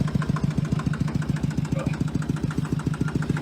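A Fendt tractor engine idles nearby with a steady, even pulsing chug, a rhythmic low throb that holds constant from start to finish with no other sounds.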